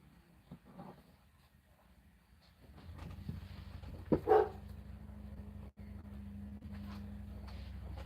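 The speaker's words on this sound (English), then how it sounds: "Can hear Annie down there barking." A dog barks a few times at a distance, faint and brief over a steady low hum, probably a neighbour's dog heard from indoors during a stormy season.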